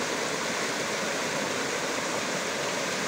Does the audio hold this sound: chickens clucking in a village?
no